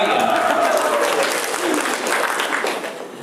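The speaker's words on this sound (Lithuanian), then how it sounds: "džiaugiasi, mokytojai ploja" Teachers clap together in a sustained round of applause indoors, loud and dense, fading slightly near the end, with voices mixed in.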